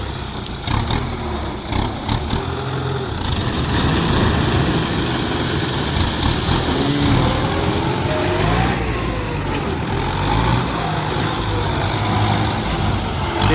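A Kubota M9540 tractor engine runs near a sugarcane-cutting rapter, a loud, steady diesel drone with low rumble and shifting rising tones, continuous throughout with no talk over it.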